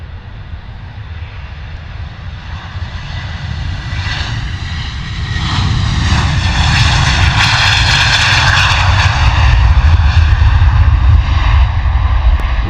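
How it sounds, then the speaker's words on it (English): A Gulfstream Global 7500 business jet's engines roar steadily and swell louder as it takes off, a broad, powerful rumble with a rising whine and no voices. "as we enjoy this Gulfstream Global 7500 departure"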